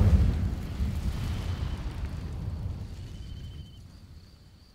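An Incendio fire spell erupts in the video game Hogwarts Legacy: a loud, rumbling burst of flame at the start that rolls on and slowly fades over several seconds, with a faint ringing shimmer over the top.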